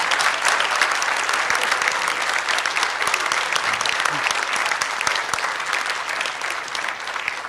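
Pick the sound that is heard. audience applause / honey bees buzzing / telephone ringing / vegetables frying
audience applause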